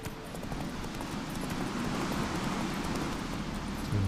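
Horse hooves clip-clop in The Witcher 3 as a rider approaches a village with a fortress, a faint, steady hoof rhythm under low wind and ambient rustle.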